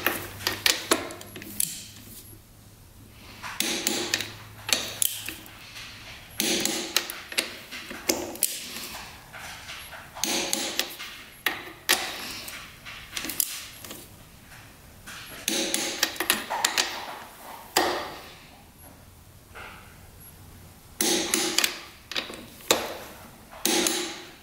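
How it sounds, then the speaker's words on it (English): A torque wrench tightens the cylinder and head nuts on a cheap Honda dirt bike, giving repeated close metallic ratchet clicks and taps in short bursts separated by quiet pauses. "So let's get these torqued down."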